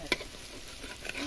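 Lentil fritters fry in a large wok with a soft, continuous sizzle, fairly faint, with a brief clink or spatter at the start and no voices.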